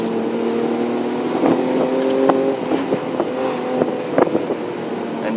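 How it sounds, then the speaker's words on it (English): A BMW M3 E36 sports car engine hums with a strong, steady tone on windy roads, then revs and shifts, with sharp snaps and pops over the drone. "And this engine, that sound, just makes you have the goose skin"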